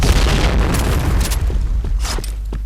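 A grenade explodes in a video game with a loud, deep boom, followed by rumbling debris and scattered sharp pops.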